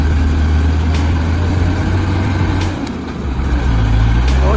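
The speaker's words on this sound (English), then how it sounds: "With a groan of stressed metal and a deep sigh from its air brakes, the behemoth began its unsteady passage" Heavy off-road truck engine rumbling on a muddy red dirt road, a loud continuous low drone with a brief dip midway and faint high hissing on top.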